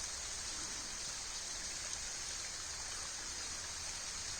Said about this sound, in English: is the bubbling of a stream and a waterfall